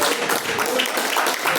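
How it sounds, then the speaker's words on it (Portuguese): A church congregation claps joyfully during a worship service, a dense, lively wash of applause that stays loud and even throughout. "Quem pode bater palmas alegres para Jesus?"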